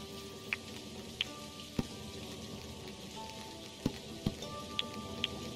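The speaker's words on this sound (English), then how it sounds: "Oh, it's raining, I think." Rain falls steadily in the farming video game Dinkum, a continuous close hiss with scattered sharp drip-like ticks and pops over a few seconds, no voices.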